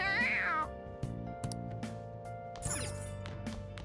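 A cat meows in the video game Persona 5 Royal, a sharp rising cry at the start and another strained yowl later, set over soft game music and background effects.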